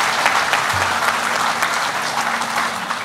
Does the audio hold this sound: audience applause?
yes